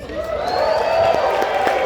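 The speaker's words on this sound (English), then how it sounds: "Wait till I finish before you applaud." A comedy club audience bursts into applause and cheering, loud and building within a couple of seconds, with some whoops in the crowd.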